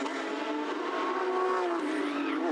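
Porsche Carrera Cup race cars pull away on the formation lap, engines droning and rising in pitch together as the pack accelerates, a dense continuous roar at middle distance.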